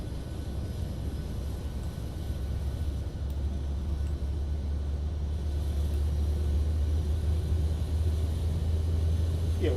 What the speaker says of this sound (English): I'm just saying I'm spooling up the APU.